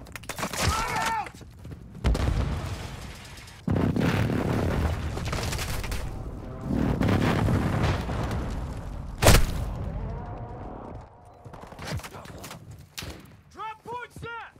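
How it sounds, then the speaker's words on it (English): Airstrike explosions land in a Call of Duty: Modern Warfare II multiplayer match, a string of heavy booms and rumbling blasts with scattered gunfire between them, with voices heard over the barrage. "Friendly airstrike on the way."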